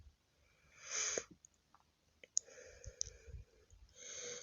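Scissors cut through dress fabric along the back neckline, giving a few faint, separate snips and rustles with quiet pauses between them.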